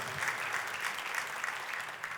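A church congregation breaks into sustained applause, a dense wash of many hands clapping at once, steady and fairly loud from start to finish with no talking over it.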